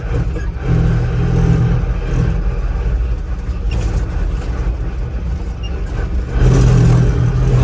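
An electric truck accelerates hard at a truck show in Southern Alberta, its loud, steady drive hum rising and surging across the whole stretch, with a stronger push near the end.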